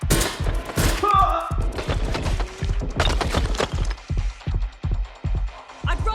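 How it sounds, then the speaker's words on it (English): Gunfire in the video game Watch Dogs: Legion, a rapid run of sharp, loud shots with thuds and splintering impacts, close by, joined by shouting voices over the first part. "They're shooting at us!"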